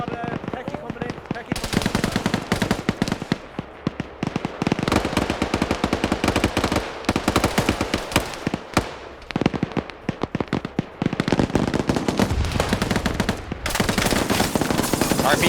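In a video game, a .50 cal M2 machine gun fires into a building in long, loud, dense bursts of rapid automatic fire, broken by a few short gaps, close and harsh.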